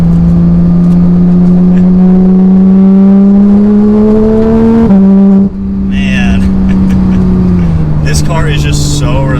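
A Porsche 911 GT3 on a test drive brakes hard and downshifts, its loud engine climbing in pitch before dropping sharply with a blip, then settling into a lower droning tone.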